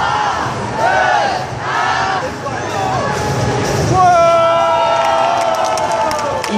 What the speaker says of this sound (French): attention, la foule en délire, on va t'encourager